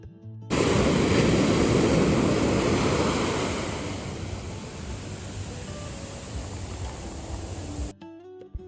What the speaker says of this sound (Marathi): त्या लाटांचा आवाज आणि थंड वारा एकदम रिलॅक्सिंग वाटत होतं